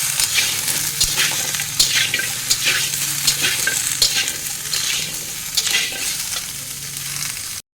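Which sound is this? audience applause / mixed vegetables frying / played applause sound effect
mixed vegetables frying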